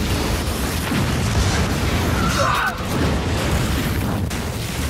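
Explosives detonate and blow up a ship, making a sustained deep rumbling roar with a crackling tail over about five seconds. No distinct impact peak stands out.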